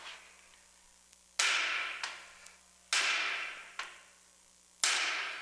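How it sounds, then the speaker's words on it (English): Hammer blows on the upper ball joint of a 1956 Chevy hot rod: three sharp metallic strikes spaced over several seconds, each with a ringing decay, plus a few lighter taps between them, close by in a quiet shop. "we're going to bust the upper ball joint with a hammer."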